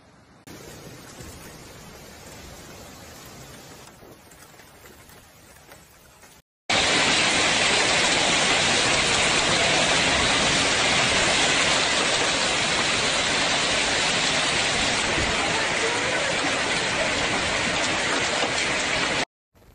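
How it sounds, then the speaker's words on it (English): Torrential rain pours down during a severe storm in Valencia, Spain, a dense, steady roar of heavy downpour that surges to full loudness after a brief gap and holds constant, with no voices. "The Spanish region of Valencia has been hit by a severe storm that has brought torrential rain, violent winds and severe flooding"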